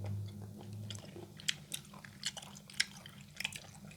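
Fresh apple snails being bitten and chewed: a quiet, close series of sharp crunches and wet crackles in an uneven rhythm, set against a soft low hum, with no talking.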